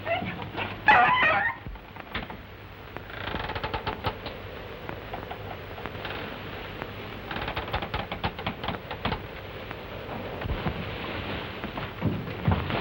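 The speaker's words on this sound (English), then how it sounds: "your dog's scaring my chickens" A dog barks sharply a few times near the start, then a steady patter like rain and rustling fills the rest with faint clatter.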